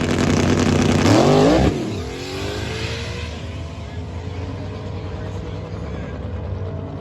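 A loud street-race truck engine roars and revs up to a high pitch during a burnout, losing oil pressure, then drops away into a lower steady drone as the truck pulls off.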